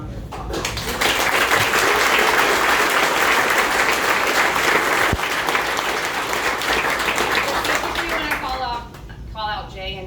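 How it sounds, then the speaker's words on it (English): A crowd at a company ribbon-cutting ceremony gives the IT team loud, sustained applause for several seconds. It eases off toward the end as a speaker's voice comes back in. "the IT team deserves a huge round of applause"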